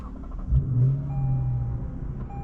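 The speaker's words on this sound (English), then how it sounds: "We're going for a drive in this 2023 Lexus IS 500 F Sport Performance." A 2023 Lexus IS 500 F Sport Performance with a 5-liter naturally aspirated V8 rumbles from inside the cabin, a low engine note rising briefly with a short rev, fairly quiet and steady.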